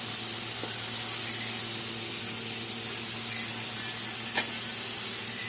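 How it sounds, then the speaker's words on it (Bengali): Water is poured from a mixer jar into a pan of sizzling spice paste for a vegetarian kochu curry. A steady hiss and frying crackle run close throughout, with a couple of brief clinks and no talk. "মিক্সিটা দিয়ে জল দিয়ে দিলাম।"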